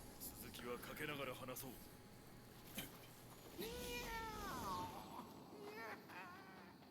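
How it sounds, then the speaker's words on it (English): A cat meows in the video game Nioh with several drawn-out, wavering cries over a continuous game soundscape. It is fairly close but quiet overall. "Okay, we got a cat on our side."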